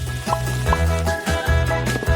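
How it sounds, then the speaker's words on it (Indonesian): Sliced tortillas fry in hot oil, giving a steady crackling sizzle with broad low bubbling and periodic stirring or pouring surges, close and fairly loud, with no talk. "Panaskan minyak dan goreng tortilla yang sudah diiris sampai berwarna coklat keemasan."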